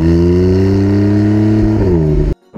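A 2017 Porsche 911 Carrera 4 GTS Cabriolet engine revs at maximum power, a loud, close, sustained tone that climbs slightly and then cuts off abruptly.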